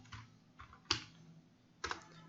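A few close, soft keystrokes on a computer keyboard in scattered irregular taps with quiet pauses between them, heard with no talk.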